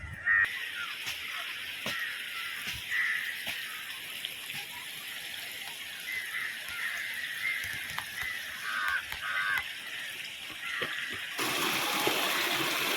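Vadattupara Waterfalls in Kothamangalam rushes steadily, its constant roar filling the background while crows caw now and then; the water grows louder at the end.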